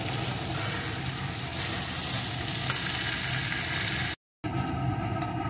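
Prawns fry in hot oil in a home kitchen, giving a continuous close sizzle and bubbling hiss with occasional stirring, briefly cut off by a short silent gap before the sizzling resumes.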